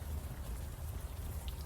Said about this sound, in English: the warm rain is coming down